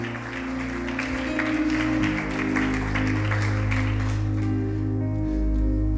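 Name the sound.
church congregation applauding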